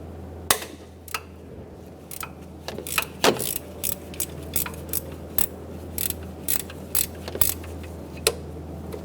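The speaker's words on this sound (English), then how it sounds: "We're going to loosen the bolt in the back of the alternator." A 14mm wrench works loose the rear alternator bolt on a 1994-1997 Honda Accord 2.2L four-cylinder, giving sharp metallic ratcheting clicks in irregular bursts over a low steady hum, close by and without talk.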